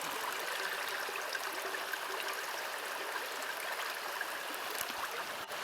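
Water from a Sawyer Squeeze backpacking filter pours out in a steady, close trickle, a continuous soft splashing flow with no pauses.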